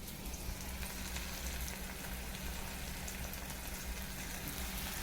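Ginger garlic paste frying in a pan for a Bengali egg curry, giving a loud, steady, even sizzle that runs unbroken for the whole stretch with no voices over it.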